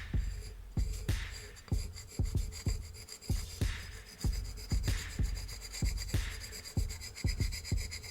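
A plastic scraper works carbon deposits off an RC engine exhaust pipe in a steady series of short, soft scraping strokes with dull knocks, fairly close and quiet, with no talking.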